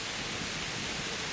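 Steady hiss of rain falling in the medieval game Kingdom Come: Deliverance, a constant broadband wash with no voices or other sounds over it.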